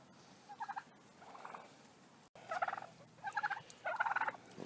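Turkeys on a farm gobble in repeated bursts, a few faint calls early then louder, closer rolling gobbles clustered toward the end over a quiet outdoor background.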